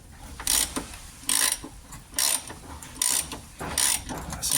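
A threaded part on a Jaguar XKR rear subframe being wound back with a ratchet, giving five evenly spaced bursts of loud metallic clicking separated by brief pauses.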